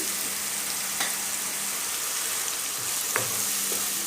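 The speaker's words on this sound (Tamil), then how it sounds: "இது கொஞ்சம் ப்ரௌன் கலர் ஆகணும். ஒரு 2 நிமிஷம் 3 நிமிஷம் இப்படியே நீங்கள் இது கிளறி விட்டுக்கிட்டு இருங்க." Onions with a little salt fry in a pan for a spicy paneer gravy, giving a steady close sizzle with a few faint scrapes and taps from stirring.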